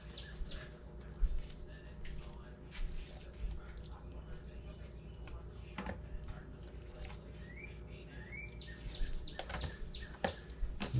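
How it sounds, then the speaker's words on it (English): Small birds chirp and tweet intermittently through a steady background hum, with a few clicking mechanical sounds mixed in. "Little bird noises."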